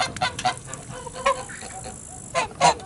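Geese honking, several loud nasal calls in quick bursts, close by and with no talking.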